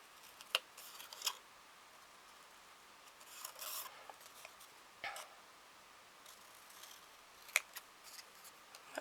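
Small snips of scissors trimming closely around paper kiss stamps, a few crisp cuts spread out over a faint, quiet background with no talking.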